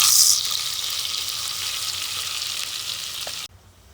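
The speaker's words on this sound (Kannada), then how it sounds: "ರುಬ್ಬಿರುವ ಮಸಾಲೆಯನ್ನು ಪಾತ್ರೆಗೆ ಹಾಕ್ತಾ ಇದ್ದೀನಿ." Ground masala hits a hot pot of seasoned oil with a loud, bright sizzle that flares at the start and hisses steadily before cutting off abruptly near the end, with no talking.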